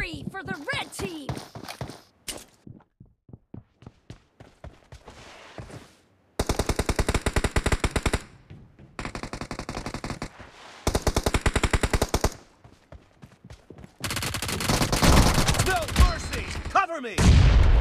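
Rapid automatic gunfire from a PUBG Mobile team deathmatch comes in repeated loud bursts, with quieter footsteps and single shots between them and game voice lines over the action.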